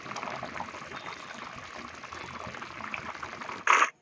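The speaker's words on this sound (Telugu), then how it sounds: "అందులోకి చింతపండు రసం అయితే పోసుకుందాము." Tamarind juice is poured into a pan of fish curry (chepala pulusu) where chili powder has been cooking, giving a steady, close wash of liquid and sizzle that ends in a brief, louder splash.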